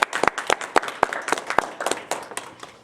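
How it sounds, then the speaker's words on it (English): A small group claps for an honoree at an education association event, a short burst of distinct, uneven hand claps that thins out and fades after a few seconds. "Let's give her a round of applause."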